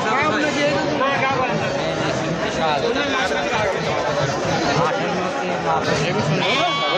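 Goats bleat at a busy Bengali livestock market in Natore, with the animals' wavering, repeated cries rising over constant crowd chatter and nearby talking.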